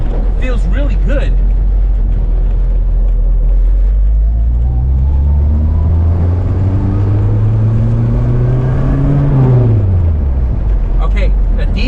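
An engine revs up, then the rpm drops and the exhaust burbles on deceleration, loud and close, with brief talk at the start.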